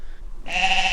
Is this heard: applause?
no